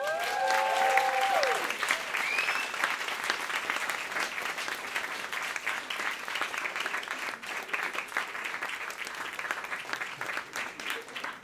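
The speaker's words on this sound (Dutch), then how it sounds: "Mag ik een applaus voor Connie Palme?" Sustained, dense audience applause for author Connie Palmen at a Dutch book club event, steady and full for over ten seconds, with a faint voice briefly audible near the start.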